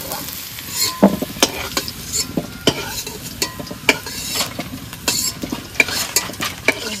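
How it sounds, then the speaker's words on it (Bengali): Potatoes sizzle in hot oil while a utensil stirs and scrapes the pan in irregular clinks and taps, close up. "এবার ওদিকে আলু ভাজছে, আলুটা তুলে নেব।"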